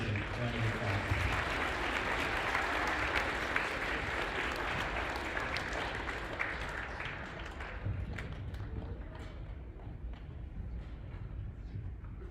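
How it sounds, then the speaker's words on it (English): A school Veterans Day assembly crowd gives a round of applause for Jesse, a steady wash of clapping from many hands that gradually thins out toward the end. "Give Jesse a round of applause."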